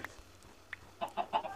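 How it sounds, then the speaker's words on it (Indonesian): A chicken in the Minecraft survival video game gives several short clucks, soft at first and then a quick cluster near the end, with no talk. "ada ayam juga guys"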